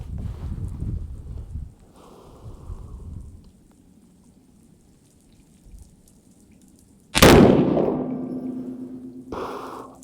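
Rifle shot from a handloaded cartridge on a shooting range, one loud sharp report with a ringing tail, followed by another sudden loud burst near the end, after faint rustling.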